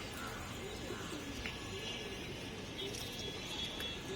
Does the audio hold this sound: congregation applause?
no